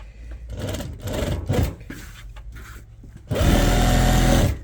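A sewing machine stitches strip lace onto a dupatta: short uneven bursts of whirring and fabric handling, then a loud, steady run of stitching to the end, with no talk.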